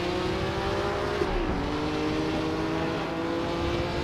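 Historic 1950 Formula 1 race cars roar around Bremgarten at the Swiss Grand Prix in Assetto Corsa, with a loud, steady engine drone and one brief pitch shift from a gear change, heard close.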